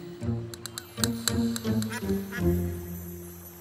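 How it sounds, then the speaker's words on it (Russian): A cartoon duck quacks in a short series of bright, nasal calls over a gentle children's song backing, the quacks clustered in quick bursts near the start and middle. "Вот плывет уточка."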